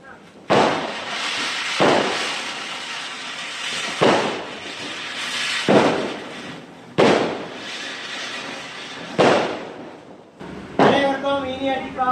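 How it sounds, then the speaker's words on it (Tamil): Diwali fireworks, a ground spinner and a flower pot, go off in five loud roaring, crackling bursts of about a second each, ending with a voice speaking. "கடைசியாக பார்த்தீங்கன்னா தரச்சக்கரமும் புஷ்பானம் தான் இருந்துச்சு"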